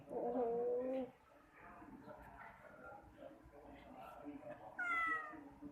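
A pet cat meows loudly at the start, then again near the end with a higher, rising cry, with people talking quietly in between.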